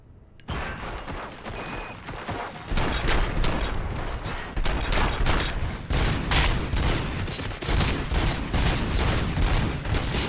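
Sustained gunfire in the video game RoboCop: Rogue City, a dense, loud barrage of rapid shots with heavy booming impacts that continues throughout without letting up.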